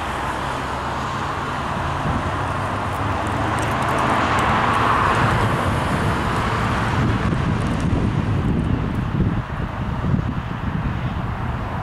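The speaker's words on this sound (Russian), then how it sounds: "И дорога, на которой очень много машин." A busy road with many cars near a shop in Baloži, outside Riga, gives a steady, loud roar of passing traffic that swells and fades slightly, mixed with wind buffeting the microphone and no talking.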